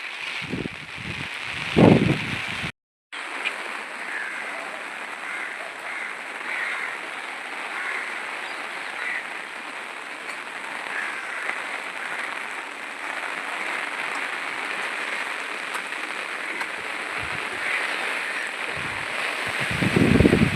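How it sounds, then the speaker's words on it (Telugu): Wind and rain sweep across open farm fields in a steady, loud broadband rush that lasts throughout, with brief dropouts and handling noise near the start and end. "గాలి వేసే చూడండి వాన"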